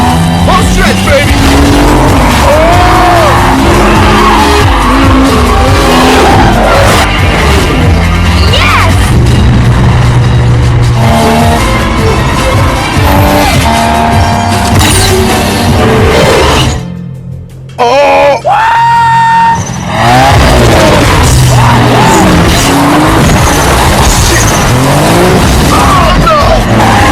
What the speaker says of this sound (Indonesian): mengendarai balap yang sangat mengerikan